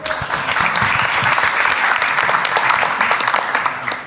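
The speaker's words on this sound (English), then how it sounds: "Give him a round of applause." An audience claps loudly and steadily, a dense wash of applause that holds throughout before easing slightly at the end.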